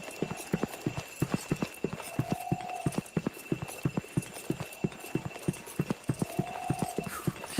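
Rapid footsteps of a running character in Resident Evil 2, a steady close series of sharp, hollow thuds like hoofbeats, with a faint voice passing underneath.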